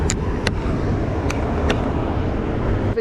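A 600-horsepower Lexus IS300 sleeper cruises with a steady low engine and road drone heard from inside the cabin, joined by a few faint brief clicks and ticks.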